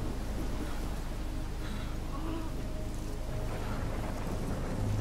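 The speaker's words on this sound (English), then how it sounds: "Man, I hate stormy weather" Steady downpour with low thunder rumbling through a thunderstorm in the game Life is Strange, a constant dense wash of rain holding throughout.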